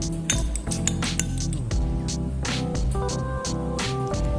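A utensil clinks briskly against a bowl while two eggs are beaten, giving a quick run of bright metallic taps and ringing chimes, close and loud, with no talking.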